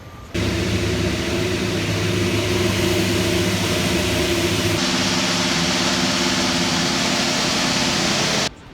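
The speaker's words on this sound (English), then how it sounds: "Toro Rosso is revving engines, probably doing engine mapping." Toro Rosso Formula 1 car engines run in the garages at the 2019 Canadian Grand Prix in Montreal, a loud, sustained engine roar that holds steady for several seconds before cutting off.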